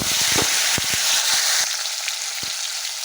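Tomato hits hot oil, making a loud, dense hiss and sizzle with a burst of sharp crackling pops early on that settles into a steadier frying sound, with no voices.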